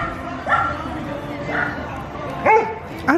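A dog gives four short, high yipping barks spaced about a second apart, over a steady background murmur.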